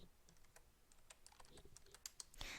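Quiet, fast keyboard typing on a computer while entering a figure into a calculation, a run of light key clicks with a louder burst at the end.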